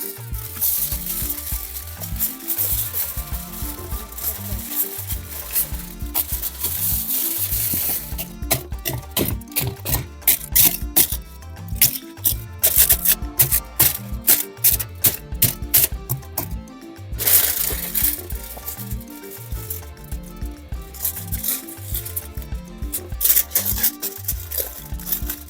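Sheets of aluminium foil crinkle and rustle continuously while being handled and pressed into a homemade DIY soft box, with dense crackling bursts and rhythmic scrunching throughout, close and fairly loud.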